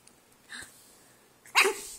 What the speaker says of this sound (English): Did you bark at someone?